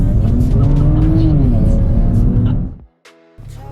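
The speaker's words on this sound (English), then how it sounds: "a little bit too heavy on the right pedal, and it just absolutely peeled the tyres" A twin-turbo BMW 335i E92 coupe launches hard and peels its tyres, its engine loud and close as it revs up and then drops away while the tyres squeal, ending in a sudden cut to near silence.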